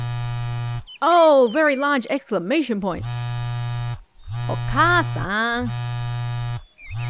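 A mobile phone buzzing with an incoming call inside the Howling Village: Echoes horror game, a steady low vibrating drone in repeated bursts, alternating with a voice speaking over it.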